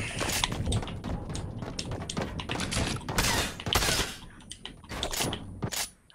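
Rapid bursts of gunfire in the Fortnite Creative video game, sharp repeated shots clustered in quick volleys with short gaps between them.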